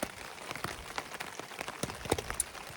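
Rain falls on a tent while backpacking, making dense, irregular pattering with sharper individual drop taps scattered throughout, close and steady, with no talking.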